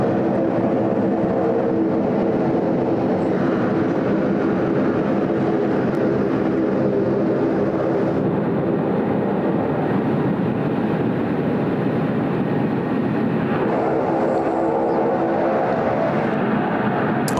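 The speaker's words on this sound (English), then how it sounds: "There we go, the lovely A220 there of Qantas Link." A Qantas Link Airbus A220 airliner roars steadily and loudly at the airport throughout, a broad continuous engine rumble with no break.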